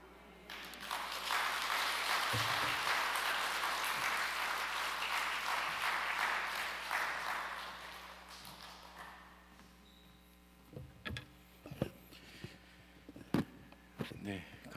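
Members of the Gimcheon Youngnak Church congregation applaud after a deacon's faith testimony, a full burst of clapping lasting several seconds before dying away into a quiet room with scattered knocks and shuffles.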